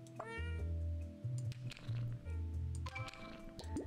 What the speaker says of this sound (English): You found a new cat's Teletummy, a chubby little fellow